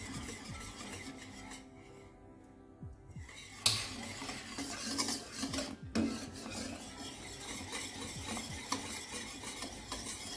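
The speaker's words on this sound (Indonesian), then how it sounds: "kita aduk terus sampai 4 menit atau 5 menit ke depan" Kaya jam being stirred steadily in a pan, a soft continuous scraping with small clinks of the utensil against the metal and a faint sizzle, heard close and alone.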